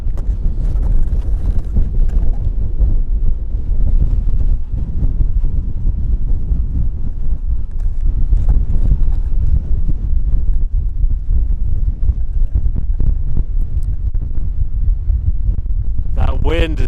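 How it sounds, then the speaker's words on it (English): Strong wind blasts across an exposed mountain summit and batters the microphone with a constant low roar and buffeting gusts for the whole stretch. "That wind is just brutal."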